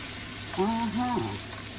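Ingredients for a cheese steak sandwich sautéing in a pan, giving an even, continuous sizzle close by; a brief voiced sound rises over it midway.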